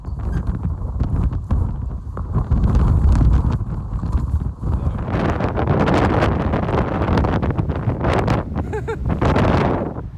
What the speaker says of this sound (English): It's so windy through this corridor.